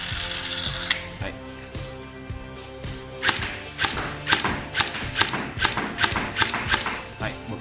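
A CYMA JD-002 (SR16-E3) gel blaster firing LDT Milky gel balls. Sharp mechanical clacks come first, then a run of evenly spaced loud snapping shots with whirring gears between them, close by, and a voice speaks briefly.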